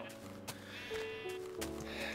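A few wavering bleats from blocky Minecraft sheep sound over a low game hum, quiet and brief, with faint talk around them.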